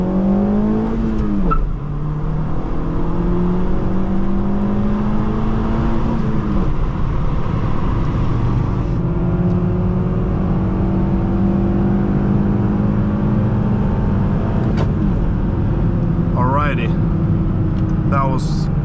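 A 2015 Honda Civic LX with a five-speed manual gearbox pulls through a full-throttle 0-60 run on a hot day, engine revs rising, dipping at shifts and climbing again, heard steadily from inside the cabin.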